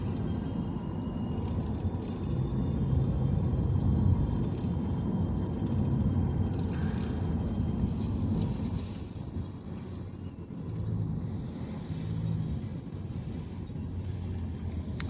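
Steady road traffic rumbles around a car driving toward Cameron Highlands, a continuous low engine and tyre drone heard from inside the cabin with faint passing noises and no clear talk.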